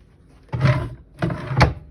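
A drawer in a cruise ship ocean-view cabin slides open and then shut, giving two short, close scraping strokes with a small knock at the end, no voices.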